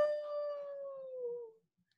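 A person imitates a wolf howl in a single sustained, slightly falling tone lasting about one and a half seconds, then it stops into near silence.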